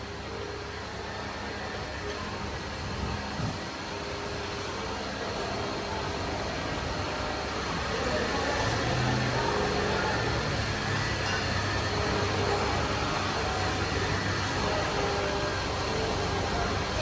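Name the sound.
Audi RS car running during noise check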